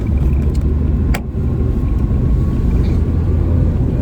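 An old Peugeot 305's engine drones steadily while driving on a road after 33 years off it, a loud low rumble up close with a brief click midway and no talking.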